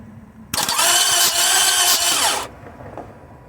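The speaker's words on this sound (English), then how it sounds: "I'm gonna crank the engine from here with my wiring here." A car engine, one with an overheating and head gasket problem, cranks on the starter for about two seconds: a loud, steady whirring grind that starts abruptly and then cuts off, leaving quiet background.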